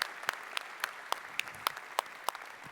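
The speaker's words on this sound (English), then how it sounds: "let's give another round of applause for the magnificent Veeam R&D team" Sparse, fairly faint clapping from a keynote audience at a tech conference, about a dozen distinct claps spaced out at a loose rhythm over a soft background.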